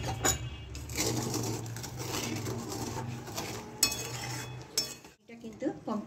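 A spoon scrapes and clinks steadily against a pan as tamarind pulp is stirred and thickened, a close, continuous metallic stirring with brief sharper knocks and little talk.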